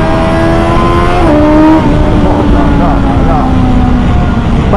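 A 2021 BMW S 1000 XR motorcycle engine revs hard at high rpm, its loud, rising note shifting pitch through gear changes on the road, with a voice talking over it.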